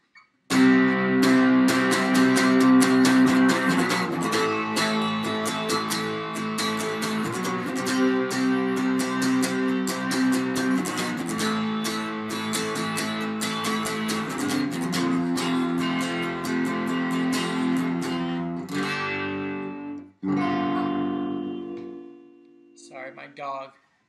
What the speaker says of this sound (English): I've got the gain cranked up.